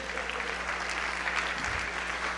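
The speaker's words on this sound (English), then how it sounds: "That deserves a big round of applause." Audience applause at a school district state-of-the-district event, a steady wash of clapping from a crowd held at an even level for a couple of seconds, heard from a distance.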